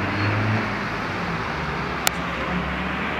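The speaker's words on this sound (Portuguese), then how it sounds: "o barulho é do trânsito" Steady road traffic on an evening in São Vicente, with a distant thunderstorm nearby, forms a constant broadband roar with one sharp click partway through.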